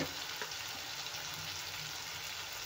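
Red chili powder and spices sauté in a pan for cabbage and potato sabzi, giving a soft, steady sizzle with faint stirring scrapes, quiet and uninterrupted throughout.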